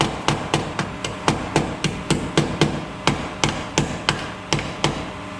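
Hammer blows on a rusty car body panel to level a protruding spot, about sixteen sharp metallic strikes in a steady, brisk rhythm, close and loud with no talking.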